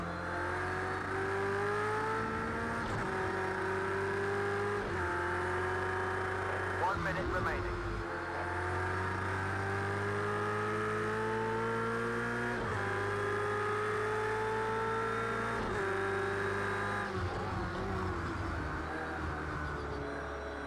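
Race car engine in the Project Cars racing game revving hard through a lap, a steady loud whine with rising and falling pitch as gears shift every few seconds, under constant background speech.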